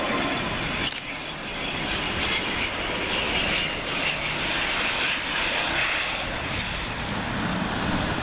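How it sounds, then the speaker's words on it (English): An Aer Lingus Regional ATR 72-600 turboprop arrives on runway 23R at Manchester Airport, its engine drone loud, close and continuous throughout, with no voices. "Next up we have Aer Lingus Regional ATR 72-600, registration Echo Indigo Hotel Delta Hotel, working flight EI 3324, and that comes from Dublin."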